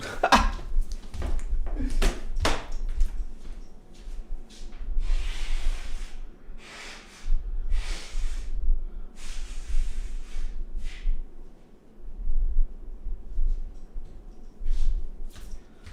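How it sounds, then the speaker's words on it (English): Someone blows their nose in a series of wet, snorting bursts, with rustling and brief pauses between the honks, close to the listener. "Let me blow my nose."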